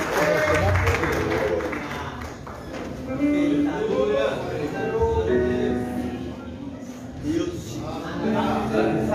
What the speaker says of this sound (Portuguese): as palmas vão ao Senhor